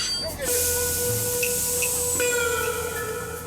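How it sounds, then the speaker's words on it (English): A train on a rail journey through Katanga, Congo slows with a steady hiss and drawn-out metallic squeals of the brakes and wheels, heard close and moderately loud under a quiet background with no clear talking. "Once again, the train begins to slow down."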